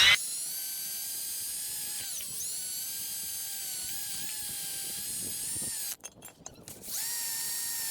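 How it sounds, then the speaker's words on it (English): A wire wheel spinning on a drill scrubs rust off brake hardware from a 2004 Lexus ES330, a steady high whine broken by a burst of rough scraping near the end before the tool runs freely again. "use a wire wheel on a drill to clean out the rust here"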